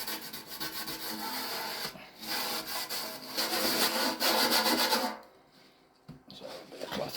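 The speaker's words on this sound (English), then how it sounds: "So a bit of cloth, get rid of that." Cloth rubbing wax off a vintage metal fuel can, loud close rhythmic scrubbing strokes in bursts, pausing briefly near the end before resuming.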